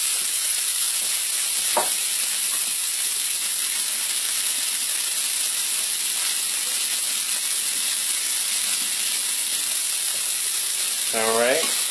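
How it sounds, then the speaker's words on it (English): Broccoli and carrot mixture sautéing in a pan for a chicken and rice soup, a loud continuous hiss and sizzle with a couple of brief squeaky scrapes and a faint voice. "I'm just going to saute. This is our broccoli and carrot mixture that we cut up earlier"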